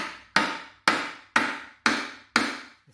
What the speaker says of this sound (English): see if I can get a hammer onto it